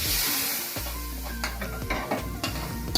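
Gongura dal tempering sizzles and crackles steadily in hot oil, with a few metallic stirring clinks against the pan, close and continuous.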